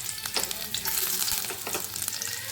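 Chopped garlic hits hot oil in a kadai and crackles in a close, busy sizzle, with quick scraping stirs and sharp spits throughout the short burst.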